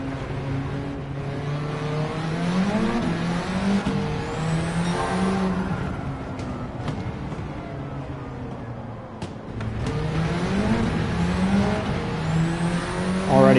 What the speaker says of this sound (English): I'm watching that RPM spike and the car's not moving forward. I think we're just blowing the tires off.